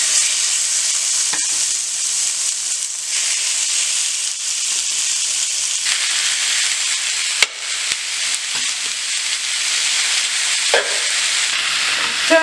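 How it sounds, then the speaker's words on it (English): Meat frying in olive oil in a skillet for beef stew, a loud, steady sizzle and crackle lasting throughout with occasional sharp pops and stirring scrapes, close up and with no talk. "we are going to start frying our meat before we let it boil."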